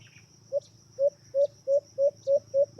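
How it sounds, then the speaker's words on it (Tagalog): A caged decoy bird, a sunsun (magpie-robin) in training, repeats a short whistled note about eight times at a steady pace, while faint calls from another bird answer in the background during a bird-trapping hunt. "yung pispis natin na humuhuni na. May sumagot na dyan."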